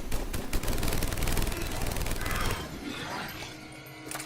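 Rapid automatic weapon fire in Mass Effect 3, a loud sustained stream of shots for a few seconds that then tapers into quieter crashing and mechanical clatter, with no speech.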